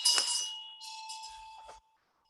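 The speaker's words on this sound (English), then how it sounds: "we ring the bell when the medicine Buddha or the wheel of Dharma is mentioned" A small ritual bell rung during a Medicine Buddha praise practice, two bright metallic strikes with a sustained ringing tone that hangs on after the shimmer fades, close and clear, no talk.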